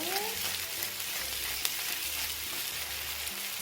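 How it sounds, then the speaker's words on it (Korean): Food stir-frying over high heat in a de Buyer iron pan gives a steady, soft sizzle with occasional tossing scrapes, fairly quiet and continuous and with no one talking. "그리고 센 불에서 볶아줍니다."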